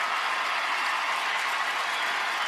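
A huge arena crowd roars in steady ovation as Marcus Smart enters a Boston Celtics versus Memphis Grizzlies basketball game, a dense, unbroken wash of cheering and applause with no clear pauses.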